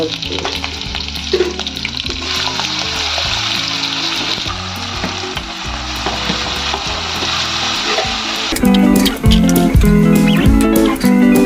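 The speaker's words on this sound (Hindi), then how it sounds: "तेल गरम हो चुका है, अब इसमें डालेंगे जीरा, कटी हुई मिर्ची और ये चॉप किया हुआ प्याज" Cumin, chopped chili and chopped onion hit hot oil with a loud, steady sizzle and frying crackle, growing busier and brighter toward the end as the pan bubbles harder.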